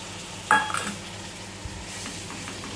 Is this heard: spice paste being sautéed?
yes